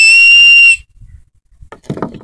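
A homemade clay whistle gives one loud, piercing, steady shrill blast lasting under a second, then cuts off, leaving faint handling noise and a soft murmur of breath or voice.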